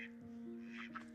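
Backyard ducks quack faintly in a few short bursts behind a steady low hum, with no voices.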